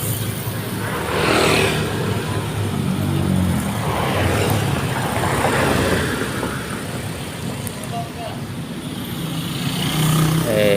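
Dense holiday homecoming traffic on a main road in Ketanggungan, Brebes: cars and motorcycles pass continuously with a steady engine roar and swelling drive-bys, loud and close, with occasional faint voices.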